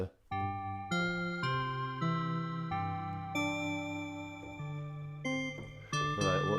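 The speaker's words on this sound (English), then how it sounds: "So you've got FM piano and a bell." A Tracktion Theia synth preset layering FM piano with a bell plays a sequence of sustained chords, each struck note ringing with bright metallic overtones and decaying slowly, alone without talk.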